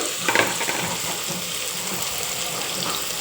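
Cabbage and potatoes tipped into hot oil with popping mustard seeds, setting off a steady loud sizzle and frying hiss with a brief splattering burst at the start; no talking.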